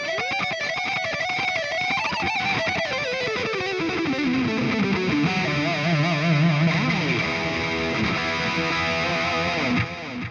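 An electric guitar runs through a Leo Jaymz Silverbox multi-effects pedal on a shredder preset, playing a loud, continuous distorted lead with bending, sliding notes that descend and then sustain before cutting off abruptly.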